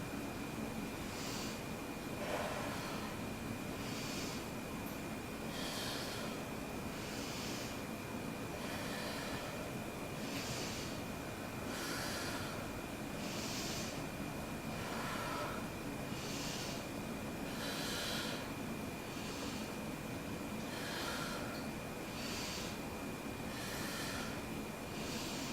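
Slow, steady breathing during a held hip-opening yoga pose, with about a dozen soft, airy breaths at an even pace spread over a constant low background hiss.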